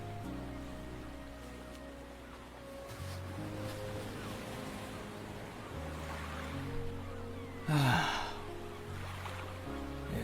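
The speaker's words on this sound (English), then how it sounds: "The ocean's so beautiful and big." Steady ocean surf rolls softly in the background under a sustained musical drone, with one brief louder splash or rush near the end.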